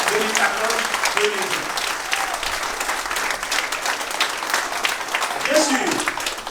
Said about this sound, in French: je vais vous demander d'applaudir l'ensemble des élus qui m'ont accompagné lors de cette mandature